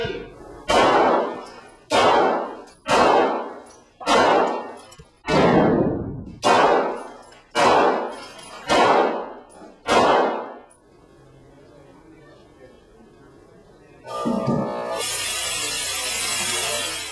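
Live gunfire strikes an untreated window pane in about nine loud, evenly spaced impacts, each a sharp crack with a ringing, clanging tail. A burst of hissing noise follows near the end.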